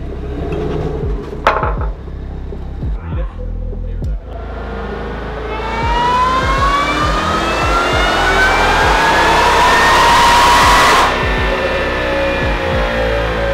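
A supercharged engine with a VMP Gen 6 3.0 L Stage 2 or Roush Phase 2 kit makes a dyno pull. Clanks and short blips give way to a loud, rising supercharger whine and roar that cuts off abruptly near the end.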